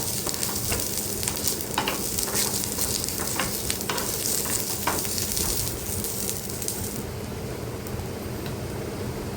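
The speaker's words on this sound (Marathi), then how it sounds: "आता याच्यामध्ये आलं आणि लसूण टाकून घेते तेही कांद्यासोबत भाजून घेते" Onion, ginger and garlic fry in a pan with a dense, steady sizzle and crackle. Occasional soft stirring scrapes sit within it, and the sizzle eases slightly toward the end.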